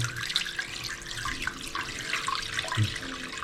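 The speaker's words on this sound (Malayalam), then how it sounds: "കുറച്ച് വെള്ളം ഒഴിക്കാം" Water runs steadily, pouring and splashing into a pan of chicken cubes, fairly quiet with no voices.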